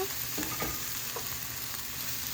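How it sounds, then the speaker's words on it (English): Pasta with garlic, cherry tomatoes and basil is stirred in a sizzling frying pan, a soft steady fry with a few scraping stirs of a spoon, fairly quiet and without talk. "I'm going to mix it very well"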